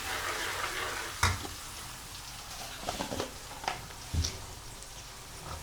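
Tempering for pav bhaji sizzles and crackles in hot oil, a quiet steady frying hiss broken by a few sharp pops and clatters of a spoon against the pan.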